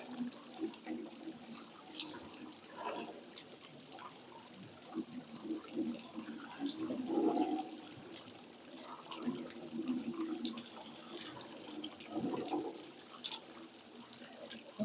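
Water splashes and pours unevenly into buckets filling at a pond, with gurgling bursts and drips over a quiet background, fairly close by.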